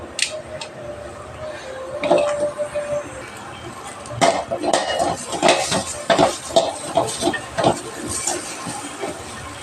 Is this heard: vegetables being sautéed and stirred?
yes